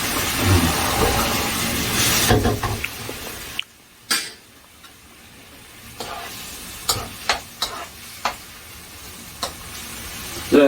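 Jjamppong ingredients for a premium three-delicacy seafood noodle soup stir-fry in a hot pan with chili oil, giving a steady loud sizzle that drops off, followed by scattered clanks of the utensil and short sizzling bursts.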